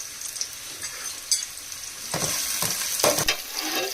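Garlic and a large onion frying in oil over a gas flame turned up full, a steady sizzle with bursts of crackle and stirring scrapes close by, no talking.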